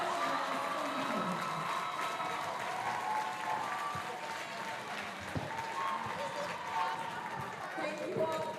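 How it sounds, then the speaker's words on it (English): Crowd applause for both teams after a high school varsity volleyball sectional final between Chi-Hi and River Falls, a fairly faint, steady wash of clapping in a gym with scattered thuds and background voices mixed in throughout. "Let's give both teams another round of applause"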